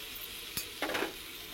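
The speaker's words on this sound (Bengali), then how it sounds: "আলু পটলের সাথে টমেটোটা ভালো করে মিক্স করে নিব।" A spoon scrapes and stirs potato, pointed gourd and tomato frying in a pan, giving a few brief, soft scraping strokes over a faint, steady sizzle.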